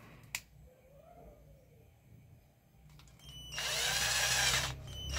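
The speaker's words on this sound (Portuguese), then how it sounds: "Vamos parafusar esta placa aqui novamente." Power screwdriver whirring as it drives screws into the plate of a Conair rotating hair dryer brush under repair; a sharp click comes first, then a short loud burst of motor whine near the end, with no talk.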